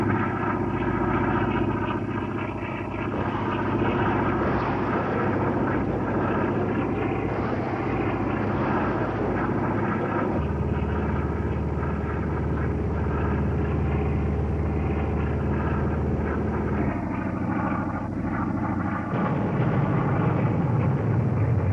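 A Douglas A-1 propeller attack plane drones overhead in a steady, loud engine roar with shifting pitch and a slow change in tone over about twenty seconds, with no talking.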